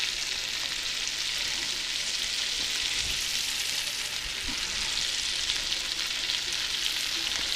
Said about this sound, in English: So I just break them apart here and let them start cooking.